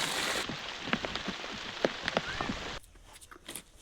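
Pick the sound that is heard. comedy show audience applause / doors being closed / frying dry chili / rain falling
rain falling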